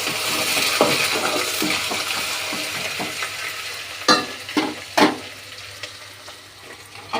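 Curry leaves, ginger and garlic fry in hot oil in a pan, giving a steady bright sizzle with a few stirring scrapes and clinks of a spoon against the metal, close up and without speech.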